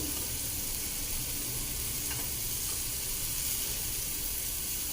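Loud, steady sizzling of cumin and garlic frying in hot oil, a continuous crackling hiss throughout with no talking.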